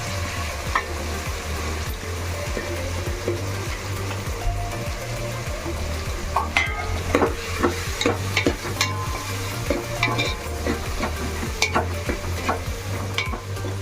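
Green chillies and softened tomatoes sizzle steadily in a hot pan while a spoon scrapes and stirs in irregular strokes, the frying hiss continuous and close with sharper clatters toward the middle.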